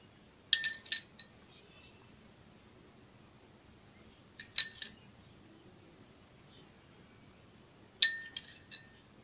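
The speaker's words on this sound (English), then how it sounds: "Mix it well." A spoon clinks against a bowl while wheat flour, curd and beetroot juice are mixed into a face pack, in three short bursts of rapid tapping separated by quiet pauses.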